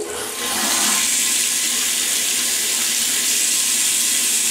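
A cold water tap is opened and runs in a steady, loud rushing stream close by, starting after a brief quiet moment and continuing without pause while hot water also flows in a plumbing setup.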